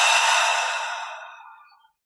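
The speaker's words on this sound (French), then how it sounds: "Et on expire par la bouche." One long, deep breath is let out through the mouth, a soft airy rush close to the microphone that fades gradually over about two seconds into silence.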